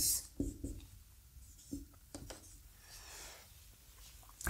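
Pen strokes writing out a calculus derivative equation, quiet and close, with short scratchy bursts and taps spaced by pauses and faint room noise between them.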